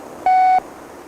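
An answering machine gives a single clean electronic beep after its greeting, loud and steady for about a third of a second, then faint room hiss.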